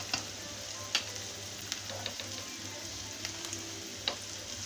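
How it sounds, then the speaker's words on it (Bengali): Spice paste of ginger paste, turmeric and chilli powder frying and being stirred in a pan for an eggplant and egg dish, a steady close sizzle broken by sharp scraping clicks of the spoon. "তো এখন এটাকে নাড়াচাড়া করে নেব আমি"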